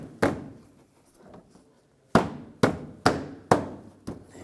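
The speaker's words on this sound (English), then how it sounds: "And just push the bumper in. Just clips in place." The front bumper cover of a 2011-2018 Volkswagen Jetta is pushed into place and clips on, making one hollow plastic thump followed by four more sharp thuds in close succession, each quickly decaying.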